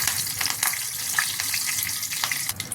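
Curry leaves hit two spoons of hot oil in a heated kadhai for egg masala, giving a steady, close sizzle with sharp crackles and pops throughout.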